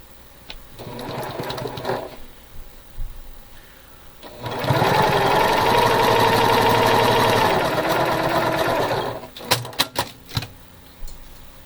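Sewing machine stitching rows of a quilt in black solid fabric, a steady loud run of needle chatter lasting several seconds, with shorter bursts before and after.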